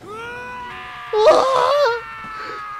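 A sharp, high-pitched scream of a girl rings out over steady video game background music in Danganronpa, rising loud for nearly a second before cutting off, followed by a short spoken exclamation.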